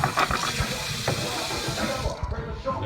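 Hot water runs steadily from a kitchen sink tap, a loud continuous rushing splash that carries on unbroken and eases slightly near the end.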